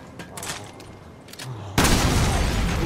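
A bomb goes off in the Resident Evil Revelations video game: a sudden loud blast bursts in after quieter game sounds and leaves a sustained rumbling roar to the end.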